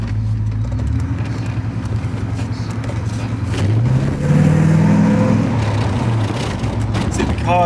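Porsche 928 driving slowly through a quiet housing estate, a low, subdued engine hum with a gentle rise in pitch midway as it pulls along, steady and fairly close.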